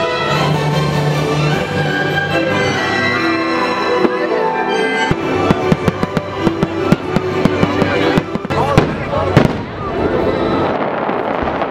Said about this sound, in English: All these people are waiting for Christmas fireworks.